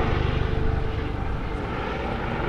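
A steady, loud helicopter rotor drone in Grand Theft Auto V fills the whole stretch, a constant whirring rumble with no break.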